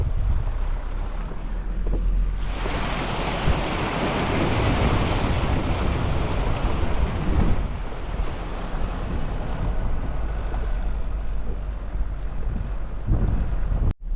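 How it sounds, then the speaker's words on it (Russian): Strong wind batters the microphone as a vehicle drives along a river in Ingushetia. A loud, continuous roar of gusts fills the stretch with no voices. "но такой ветер, что ужасно просто"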